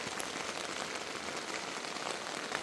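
Rain falls on a campsite shelter at a camp in Bayo Grande, a dense, steady patter of drops on the covering, soft and unbroken with no voices.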